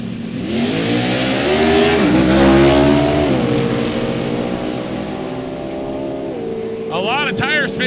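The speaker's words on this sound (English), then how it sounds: "A lot of tire spin for Jason Tapscott." A 1970 Camaro drag car launches with heavy tire spin at a drag-racing event: a loud, sustained engine roar climbs and wavers in pitch, then an engine note sweeps sharply at the end, with announcer talk over it.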